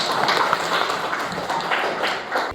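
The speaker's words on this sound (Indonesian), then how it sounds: "Hebat, tepuk tangan dulu untuk kalian" A class of students applauds in a room with a brief burst of dense, close hand clapping that carries on steadily for a couple of seconds.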